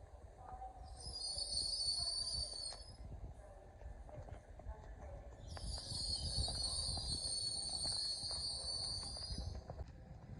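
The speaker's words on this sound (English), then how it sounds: "Here we have coming in is one of TransPennines 185s." A TransPennine Express Class 185 diesel train arrives at York station on the East Coast Main Line, with a low rumble of rolling stock and two long, high wheel squeals at a distance.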